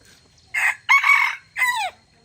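A jungle fowl rooster raised from a chick crows once, close and loud, in a hoarse multi-part call that ends in a falling note. Quiet background noise surrounds it.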